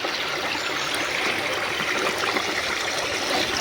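Water runs steadily from a water source on a rural plot of land, a continuous close hiss and trickle without pause, with no voices heard.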